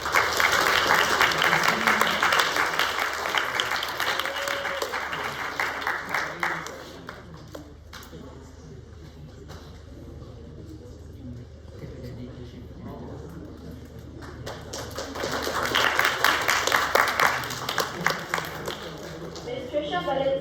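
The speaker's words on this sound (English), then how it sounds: "Let's give a round of applause to Mr." A forum audience breaks into applause in two bursts, a strong round of clapping at the start that dies away, a quieter stretch with talk, then a second swell of clapping near the end.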